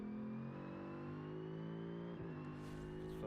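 A Civetta Scintilla race car fitted with a GT3 mod, in a racing video game, accelerates hard at full throttle: a close, steady, strongly tonal engine whine climbs in pitch, with a brief break near the end as it changes gear.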